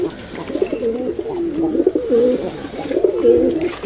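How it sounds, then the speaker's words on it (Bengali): Pigeons coo in steady, rolling low calls while drinking water in a home loft in winter, close and continuous with a faint background hiss. "কবুতর পানি খাচ্ছে, দেখেন।"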